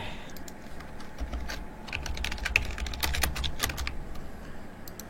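Fast typing on a computer keyboard, a quiet patter of keystrokes broken by a few sharper, louder clicks, close by with no one talking.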